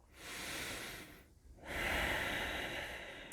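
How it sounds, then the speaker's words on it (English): Two slow, deep breaths during a yoga stretch in a core strength class, each a long airy inhale and exhale close to the microphone, separated by a brief pause, with no talking. "Take 3 deep breaths there."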